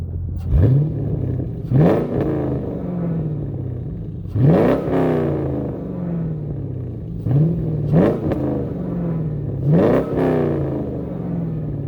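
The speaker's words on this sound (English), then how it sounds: "give it some baby revs" Chevrolet C5 Corvette V8 blipped in gentle revs while parked: five quick throttle rises spaced a couple of seconds apart, each climbing and falling back to a rumbling idle, close and loud with no talk.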